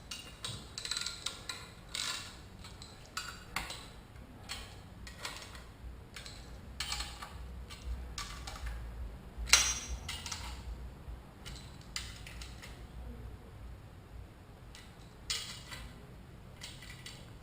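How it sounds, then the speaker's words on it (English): A wrench tightens the differential brace bolts on a first-generation Cadillac CTS-V, a half turn at a time, giving soft intermittent ratcheting clicks and metallic ticks, faint and close, with one sharper clank partway through and no talking. "What I'm going to do is I'm going to tighten this bolt and this bolt a 1/2 turn at a time."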